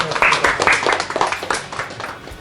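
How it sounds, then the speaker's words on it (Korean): Audience applause at a presentation marking the 70th anniversary of the Korean War Incheon landing, a dense, steady patter of clapping mixed with voices, fairly loud and continuous throughout. "살아계신 영웅들에게 박수를 보냅니다."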